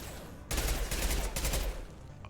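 Rapid bursts of SMG fire from the Mass Effect 2 video game, loud and close, rattling for well over a second before cutting off to quiet background.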